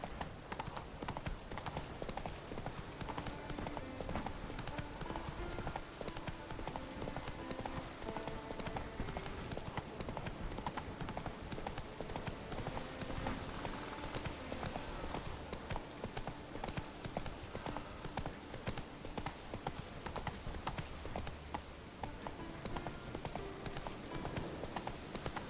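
Roach the horse's hooves clip-clop steadily and continuously in The Witcher 3, a loud, dense galloping rhythm layered over game music and ambience.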